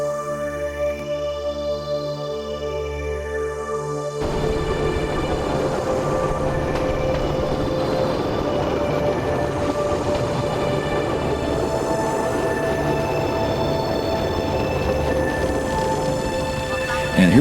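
A Cambodian bamboo train, a flatbed platform, rides the rails with a steady loud rumbling clatter and a continuous engine drone, sustained throughout with rhythmic wheel noise; an opening stretch holds other tonal sound before the ride noise takes over.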